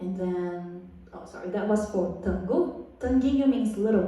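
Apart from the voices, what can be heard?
No everyday noise stands out behind the speech.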